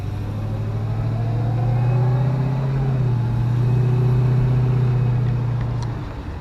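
An LS-swapped Chevrolet Nova out for its first drive after winter storage gives a loud, steady engine rumble that rises and eases as the car cruises, heard from inside.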